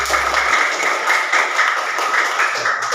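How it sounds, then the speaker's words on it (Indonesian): Classroom of children clapping hands together on a teacher's cue, a dense, steady patter of close applause sustained throughout with no talking over it. "Ya, tepuk tangan dulu"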